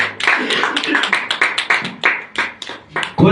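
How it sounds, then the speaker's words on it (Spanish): A church congregation claps in a close, uneven rhythm of sharp hand strikes, loud and near, with voices mixed in among the claps. "Dale un fuerte aplauso a Cristo Jesús."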